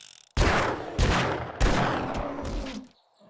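Heavy gunshots from a Magnum handgun in 7 Days To Die Alpha 19 fire three times at an even pace; each loud, booming report is followed by a long, rolling tail that fades out before quiet.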